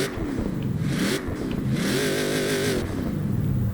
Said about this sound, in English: and here's how the V8 sound.